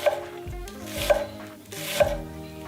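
An onion chopped with a knife, three evenly spaced, crisp cutting strokes that land on a board, set against soft background music.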